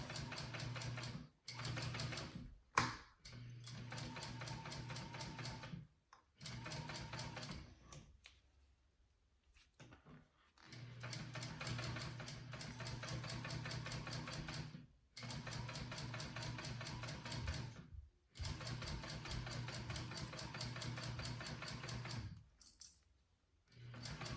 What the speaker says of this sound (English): And I'm just stitching along one side of the handle.